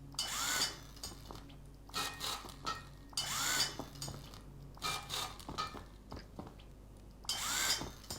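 In the video game Rust, a base wall is upgraded to metal. Short bursts of grinding, drill-like building noise repeat at about one-second intervals, with quiet stretches between them.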